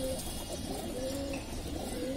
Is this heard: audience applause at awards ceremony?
no